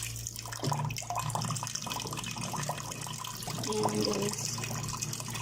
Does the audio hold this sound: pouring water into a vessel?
yes